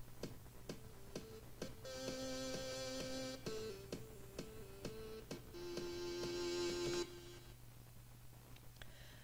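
A quiet synth lead plays a stepping melody of sustained tones over a steady ticking beat, with brighter swells of sound in two passages.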